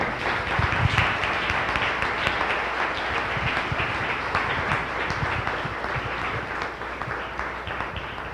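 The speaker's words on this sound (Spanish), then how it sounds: "un aplauso, por favor" Steady, dense applause from a sizable crowd fills the whole stretch, loud and continuous without letting up.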